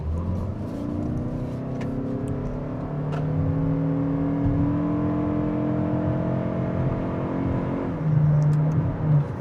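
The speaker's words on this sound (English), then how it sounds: "let's give her the beans. Floor it." A 2025 Toyota Crown Signia Limited pulls hard under full throttle, its engine holding a steady, rising drone heard from inside the cabin with no talking.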